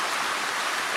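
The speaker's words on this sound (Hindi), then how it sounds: "आप लोग आवाज़ सुन सकते हैं रेन की इस वक्त, और बारिश हो रही है बहुत ज़बरदस्त सी" Heavy rain pours down in Karachi as a steady, dense hiss that fills the whole moment without break, close and loud, with no talking over it.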